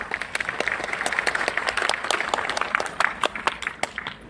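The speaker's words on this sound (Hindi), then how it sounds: "तो जोरदार तालियां फ्रेंड्स" Applause from an audience at a meditation gathering, a brisk patter of clapping with distinct sharp hand claps standing out, fairly close and steady, without speech over it.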